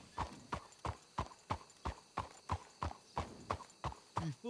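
Young horse's hooves clip-clopping in a steady, even walking rhythm, close and distinct, with roughly a dozen evenly spaced steps.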